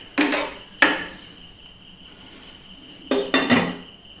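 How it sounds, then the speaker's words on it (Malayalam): Onions are crushed for a Kerala-style stir-fry, heard as four sharp pounding knocks in two pairs separated by a quiet pause, close and fairly loud over a steady faint background hum, with no talking. "നമ്മൾ ആ ഉള്ളി എടുത്തു വെച്ചിരിക്കുന്നത് ഒന്ന് ചതച്ചെടുക്കണം"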